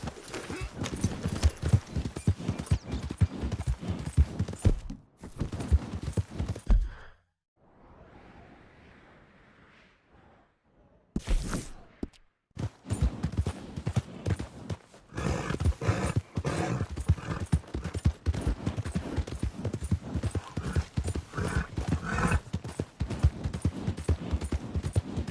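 Horse hooves clip-clop steadily in Red Dead Redemption 2, a continuous trotting rhythm at moderate loudness with a short near-silent gap partway through, while someone talks over it.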